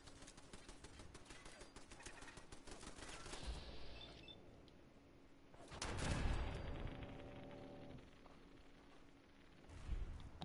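Automatic turret gunfire in the Fallout 4 video game, rapid bursts of shots running through most of the clip at moderate level, with a heavier blast partway through and another burst near the end.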